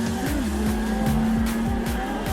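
A simulated car drifting around the Ebisu circuit in Assetto Corsa, engine note rising and falling with repeated gear shifts and throttle blips under a continuous tyre squeal, loud and close throughout.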